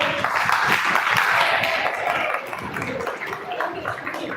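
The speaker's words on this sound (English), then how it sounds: "Can we get a big round of applause for it?" An audience at a campus orientation program gives a round of applause, loud steady clapping that eases slightly partway through, with faint voices mixed in.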